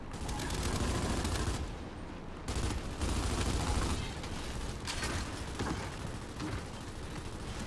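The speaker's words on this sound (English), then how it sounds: "I'm shooting all my bullets out" Sustained gunfire from a Gears of War ranked match, with loud, continuous rattling bursts and brief gaps, mixed with mechanical clatter over several seconds.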